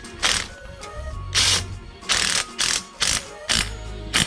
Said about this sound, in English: Now use your socket or your impact driver